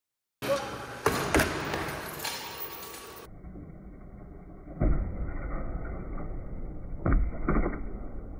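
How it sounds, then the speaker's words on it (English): Landing gear drop test rig strikes with a sharp, solid impact, followed by a few more distinct thuds and clattering knocks spread over several seconds, moderately loud and near, with no speech. "Let's drop this thing and see how it performs."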